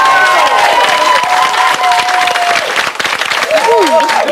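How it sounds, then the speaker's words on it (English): Studio audience applause and cheering on a reality TV companion show, bursting loudly under music and a host's talk for a few seconds. "give him a round of applause."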